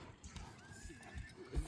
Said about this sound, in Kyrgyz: Кандай гана сонун жылкы экен достор